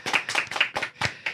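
A small podcast audience claps to welcome the guest, Srishty Rode, in a few loose, close bursts of hand claps that rise and fall unevenly over a brief moment.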